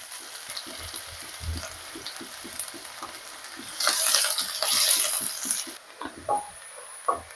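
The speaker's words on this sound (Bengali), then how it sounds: "পেঁয়াজগুলো ভেজে নেব।" Sliced onions fry in a hot pan for a khesari dal dish, giving a steady close sizzle broken by regular scraping stirs, with a louder burst of crackle midway.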